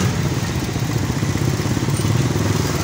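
Motorbikes passing under a shipping container on a road blocked with containers in Lahore, a steady, loud engine drone with clattering, mid-pitched revving and no clear pauses.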